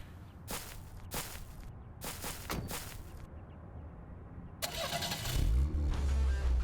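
A car engine starts in the video game Deadly Premonition, a loud rumbling crank and catch that settles into a steady low idle, after several sharp bursts of game sound effects.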